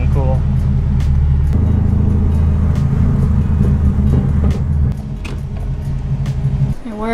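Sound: loud car engine running

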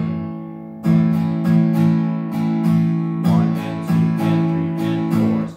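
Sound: rhythm guitar strumming pattern

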